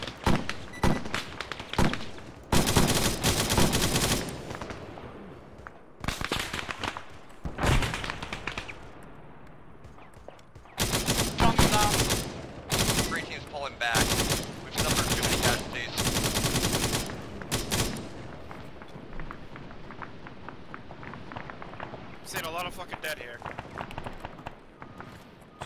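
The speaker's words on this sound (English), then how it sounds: "Keep firing. We're still getting shot at." Sustained bursts of gunfire during a military field training mission, volleys of rapid shots repeating loud and close with brief gaps, while voices shout over the shooting.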